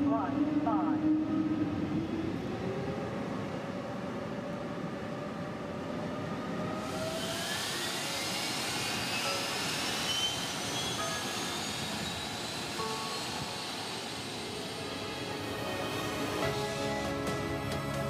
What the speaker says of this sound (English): This is the first flight of the Embraer E2, the E-Jets, the second generation.